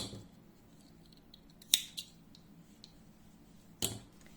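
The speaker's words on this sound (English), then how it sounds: "I am cutting." Scissors trim yarn ends on a crocheted granny-square Christmas stocking, giving two crisp, close snips a couple of seconds apart in an otherwise quiet room.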